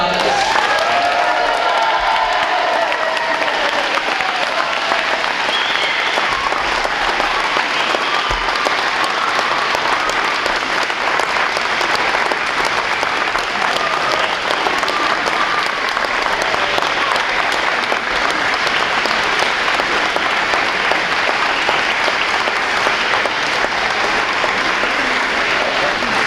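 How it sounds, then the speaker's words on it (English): A room full of people at an adult basic education graduation ceremony breaks into sustained applause for the graduates, loud and continuous throughout with faint scattered voices mixed in. "Let's give them one big round of applause."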